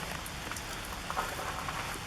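Rain falls steadily at a tight Corps of Engineers outflow campground, a soft continuous patter and hiss with faint scattered drops and no pauses.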